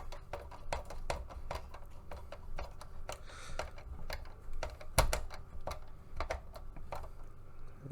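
Small screws being tightened down while reassembling an NES console, a quiet close-up series of irregular ticks and clicks from a screwdriver and plastic parts, with a faint rustle.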